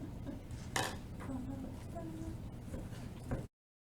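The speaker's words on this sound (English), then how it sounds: "I'm going to pour that in, stir it together" A spoon scrapes and clinks around a bowl while a farm-fresh egg is stirred into cinnamon roll dough batter made with warm milk, giving soft, uneven knocks and one sharper clatter.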